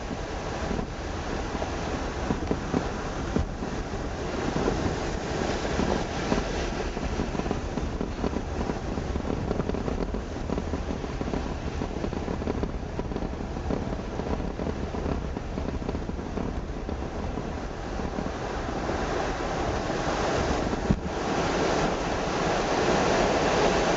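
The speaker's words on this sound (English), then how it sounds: "Listen to the water." Steady rushing water fills the whole stretch, a continuous broadband wash with no talk, like waves or flowing water nearby.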